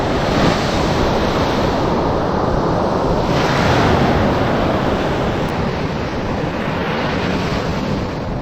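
Ocean surf at Mypadu beach rolls in as a steady, broad wash of breaking waves, with wind rumbling against the microphone throughout and no voices.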